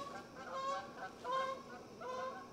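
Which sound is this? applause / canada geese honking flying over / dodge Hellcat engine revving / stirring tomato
canada geese honking flying over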